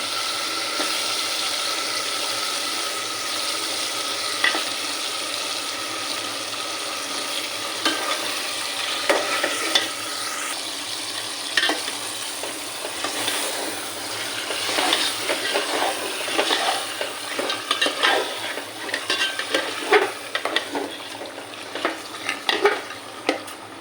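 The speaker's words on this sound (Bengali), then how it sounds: "আর এইভাবে আমি মাংসটা একটু কষাই নেব।" Beef pieces stir-fried with spices in a pan make a continuous close sizzle, broken by frequent scraping and knocking of a spoon against the pan that grows busier toward the end.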